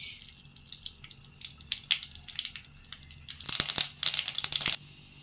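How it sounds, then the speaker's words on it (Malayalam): Mustard seeds splutter and pop in hot oil in a pan, a scattered crackle of sharp sizzling bursts that grows denser and louder toward the end, with no talk. "കടുക് ഇട്ട് കൊടുക്കാം."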